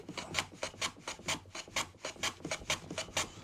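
A hand tool cuts shavings off solid oak in quick rasping strokes, about four per second, close and steady with a dry scraping texture and no talking.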